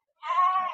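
A single sheep at the Gudur sheep market gives one short, clear bleat lasting just over half a second, close by and alone.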